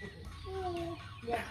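A chicken clucking: a few brief, nasal clucks rising out of a low rumbling background, moderately close, with a last sharper cluck near the end.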